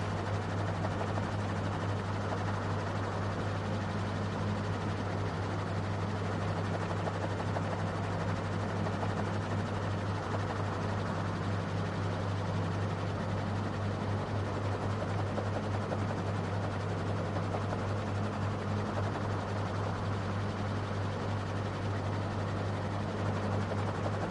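A steady, droning aircraft engine rumbles continuously as a plane comes in to land in Microsoft Flight Simulator 2024, unbroken and even in loudness with no voices.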